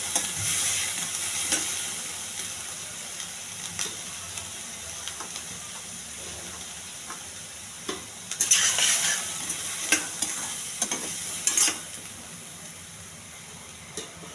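Chickpeas with turmeric and chili powder are stirred in a pan, with a steady soft sizzle and occasional scraping clicks of the spoon, close and continuous.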